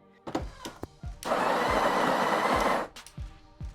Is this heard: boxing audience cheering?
no